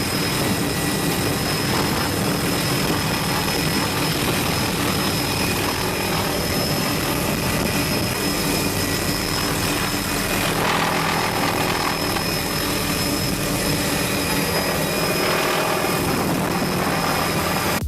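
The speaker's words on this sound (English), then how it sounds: "This helicopter pilot flying really low through a rainforest." A low-flying helicopter thunders over a rainforest, its rotor and turbine noise loud and steady from start to finish, with no talking.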